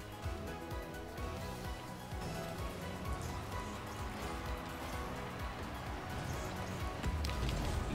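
Intense rain in a video game match falls as a dense, steady patter and hiss that fills the background throughout, without any voices.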